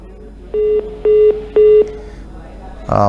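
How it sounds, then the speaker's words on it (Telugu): A phone call drops and three evenly spaced, loud, steady beeps of the disconnect tone follow. A voice starts up right at the end. "ఫోన్ కట్ అయినట్టుంది"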